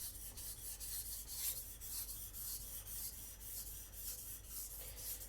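A Takamura Migaki R2 gyuto knife being sharpened on a whetstone, heard as a quiet, steady rhythm of rasping strokes back and forth, close and soft, with no talk.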